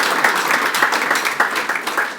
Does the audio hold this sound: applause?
yes